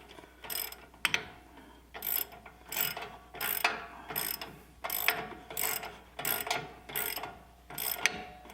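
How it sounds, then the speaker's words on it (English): A ratchet clicks in quick bursts while tightening the nut on a shock of a 4WD Chevy V8 Colorado, with about a dozen rhythmic strokes separated by short pauses, close and crisp. "All right, now to stick the nut back on the bottom here."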